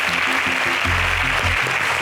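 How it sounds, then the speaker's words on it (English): Brief applause for a contestant at an agricultural science quiz show, a short burst of clapping mixed with a loud tonal musical sting underneath. "A round of applause for Feyi."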